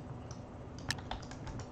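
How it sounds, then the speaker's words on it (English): Rapid drag-clicking on a computer mouse fitted with grip tape gives a quick, irregular series of light plastic clicks, close and fairly quiet, with one sharper click standing out. "I'm gonna be trying to drag click"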